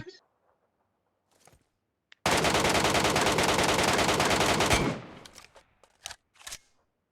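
Sustained automatic gunfire in the video game Metro Royale, a loud rapid burst lasting about two and a half seconds, with a few short shots and scattered sounds before and after.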